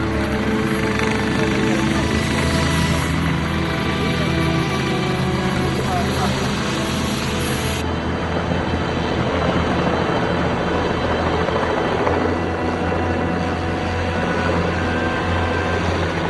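Helicopters flying up a flood-ravaged valley carrying emergency supplies, a loud steady rotor thrum and engine drone throughout, with a narrator's voice over it.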